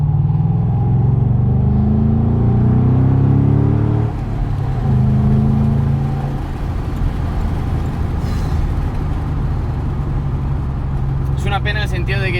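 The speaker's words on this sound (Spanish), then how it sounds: "el sonido del motor," A Ford Mustang V8 Roush engine drones loud and close with a deep, steady rumble that rises in pitch during the first few seconds, while someone talks over it throughout.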